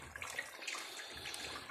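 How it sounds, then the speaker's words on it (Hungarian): Pork fat and milk foam in a pan as traditional Hungarian cracklings render, giving a soft, steady, close bubbling hiss with no talk. "Lehet hallani, hogy szépen felhabzott."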